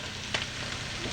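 Scallions sizzle in a hot stir-fry pan with vegetables, a faint, steady frying hiss with one small crackle, no talk.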